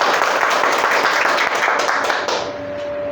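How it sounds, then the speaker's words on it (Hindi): Audience at a Hindi-language health program breaking into loud, dense applause that holds steady for about two seconds before thinning out, with a sustained tone rising underneath as the clapping fades. "तो एक बार इसके लिए ज़ोरदार ताली।"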